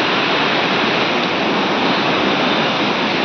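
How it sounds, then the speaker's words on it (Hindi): A river rushes steadily below the Badrinath road between Rudraprayag and Chamoli in Uttarakhand, a loud, continuous broadband roar of flowing water with no breaks or voices. "नदी बह रही है"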